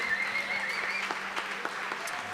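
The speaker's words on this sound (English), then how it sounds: "Give them a round of applause." Applause from a live music show audience greeting a band, steady crowd clapping at moderate distance filling the whole stretch.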